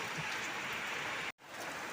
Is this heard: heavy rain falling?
yes